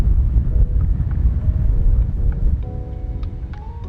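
Strong outdoor wind buffets the microphone on a disc golf course, a steady loud low roar running the whole time with no talk over it.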